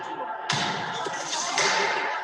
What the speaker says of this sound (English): They were literally banging on the doors of Congress.